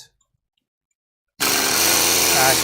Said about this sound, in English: So running the cut cycle and then programming in where all these tabs are to be a spot drill cycle